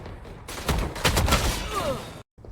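Gunfire in the Valorant video game: a rapid burst of loud, close shots rattles for over a second, then cuts abruptly to silence.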